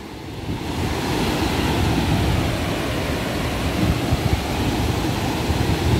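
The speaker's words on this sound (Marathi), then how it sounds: "ती एक लाट आली तर तिच्या मागोमाग ती बघा लगेच दुसरी लाट येते" Sea waves break on the shore at Ganpatipule in a loud, continuous, rushing wash of surf with some wind buffeting, heard close with no voices over it.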